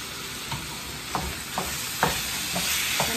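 Chopped garlic clove browning in a pan, a steady sizzle with several soft stirring scrapes spaced through it, close and moderately quiet, no talking.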